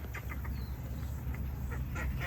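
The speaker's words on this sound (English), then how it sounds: "Let's have a look at the ducks." Ducks quacking in a park near the tide: a series of short, nasal quacks repeating at a moderate distance over steady low wind or background rumble, with no talking.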